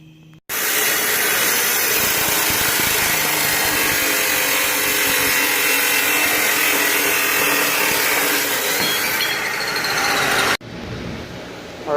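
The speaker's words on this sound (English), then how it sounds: "the main beam is cut" Power tool cutting through a car's main metal beam in a garage, a loud steady grinding roar that runs unbroken for about ten seconds and then cuts off abruptly, no talking.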